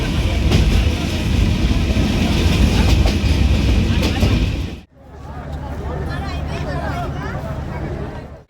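A local train runs along a rural rail line in Bangladesh, a loud close rumble and clatter of wheels that cuts off briefly, then carries on as a softer rattling ride.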